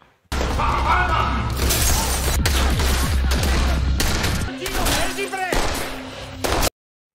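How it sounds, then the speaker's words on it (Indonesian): A gunfight in an action film, with police and henchmen exchanging fire: a dense, continuous barrage of loud overlapping gunshots and impacts, thinning slightly toward the end before cutting off abruptly. "Selain itu anak buah Danika juga datang sehingga terjadi baku tembak."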